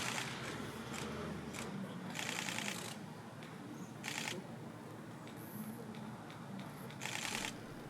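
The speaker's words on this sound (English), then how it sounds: "with the clicking of cameras omnipresent" Camera shutters clicking at a wildlife viewing spot, several quick bursts of rapid mechanical clicks scattered over a soft outdoor hiss, close and fairly crisp.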